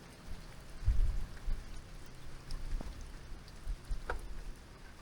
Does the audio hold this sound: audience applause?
no